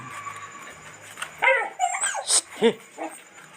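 A dog yips and whimpers in several short, high bursts at close range, with brief pauses between them.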